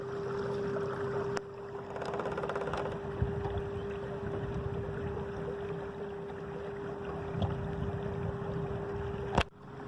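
A canoe pushed upriver by a trolling motor gives a steady electric whine over continuous water and wind noise, with no one talking.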